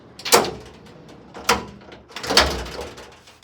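Three separate sliding thuds and scrapes come from an oven in a DIY camper's outdoor kitchen as it is pulled out, each short and close, with the last one longer and rattling.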